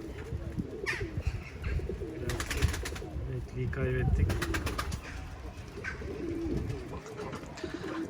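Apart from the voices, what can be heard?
bird cooing outdoors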